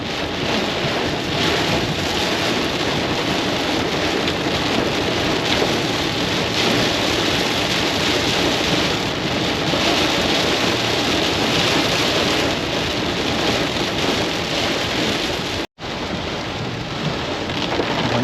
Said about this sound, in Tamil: ஆல் ஆஃப் அ சடன் சரியான மழை